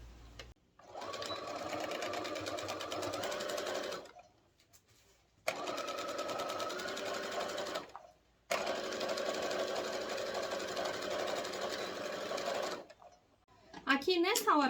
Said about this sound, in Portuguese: vamos dobrar ao meio e vamos passar a costura aqui e aqui.